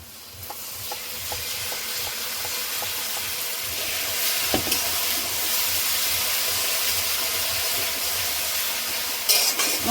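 Ground chili, ginger and tomato spice paste goes into a pan of onions fried until red. After a few light taps, a loud, steady sizzle of frying swells up and continues with stirring noises.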